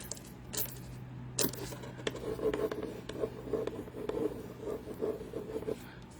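Someone rubs a metallic foil transfer sheet down onto a surface with a tool, producing soft scratchy strokes in an uneven rhythm, close and quiet, with a few sharp taps and no talk.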